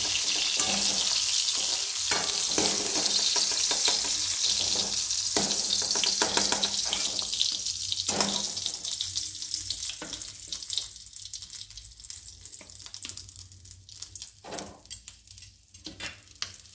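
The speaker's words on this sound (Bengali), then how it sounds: "আর এটা এমনভাবে ভাজবেন যেন একটু ক্রাঞ্চি থাকে" Tinda, Indian round gourd, frying in oil, a steady bright sizzle and crackle that is strongest early and gradually thins and quiets, with occasional stirring clatter and no voices.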